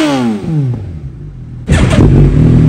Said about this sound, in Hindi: भाई साहब, क्या आवाज़ आ रही है विदाउट एग्जॉस्ट।